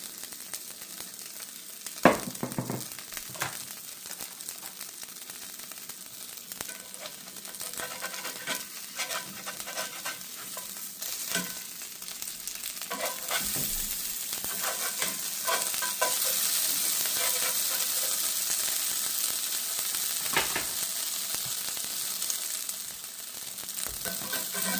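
Oxtail fries in olive oil in a pan for birria tacos, a steady sizzle running throughout, with occasional stirring and scraping knocks and a louder, denser crackle building midway.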